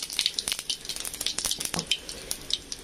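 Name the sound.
whole cumin seeds frying in hot mustard oil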